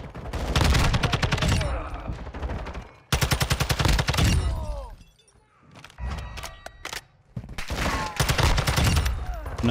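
Gunfire in a first-person shooter, a Desert Eagle pistol among the shots, comes in sharp, loud repeated bursts of rapid cracks that stop and start, with short quieter gaps and a voice talking faintly in between.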